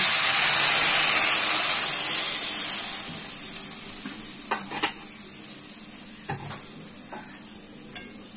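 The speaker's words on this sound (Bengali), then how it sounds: "এবার এতে আমি পর্যাপ্ত পরিমাণে সবজি ডুবে যাওয়ার মতন জল দিয়ে দিচ্ছি।" Water goes into spiced mixed vegetables in a hot pan for Bengali sukto, a loud hissing sizzle that fades to a quieter simmer, with a few soft utensil clicks.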